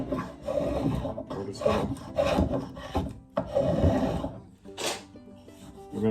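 Spokeshave shaving wood from the inside of an old hatchet handle, close and fairly loud, in uneven bursts of rasping strokes separated by short pauses.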